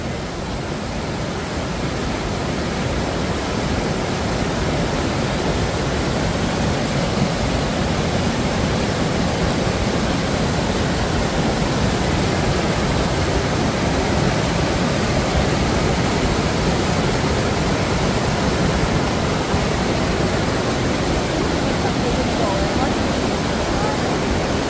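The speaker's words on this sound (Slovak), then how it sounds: "počujete ten zvuk duňacej sa, valiacej a peniacej sa vody?" Roaring, foaming water of the Kjæerra waterfall in Norway, a dense unbroken rush of falling water, loud and close, holding steady for the whole stretch with no voices over it.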